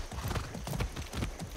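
Horse hooves clip-clop in a steady, rapid rhythm as a rider moves along in the video game Far Cry 6, the beats loud and close with no speech over them.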